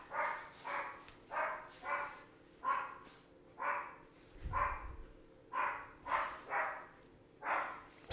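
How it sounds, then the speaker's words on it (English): A pet dog that gets excited at feeding time barks in a steady series of about fourteen repeated barks, moderately loud indoors, with a low thump partway through. "Sorry for my dog barking."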